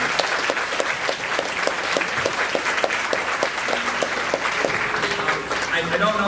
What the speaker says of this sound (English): I wonder if you would join me in a round of applause